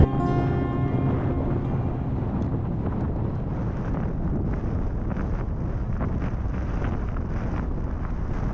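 A strong headwind roars against a bicycle microphone during a long road ride between Helsinki and Lahti, a steady, dense wind rush that holds loud throughout with no talk.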